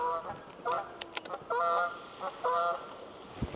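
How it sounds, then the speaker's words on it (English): Canada geese flying in, giving several bursts of loud, nasal honking calls in uneven groups, fairly close, with faint outdoor background noise between them. "Canada geese coming in."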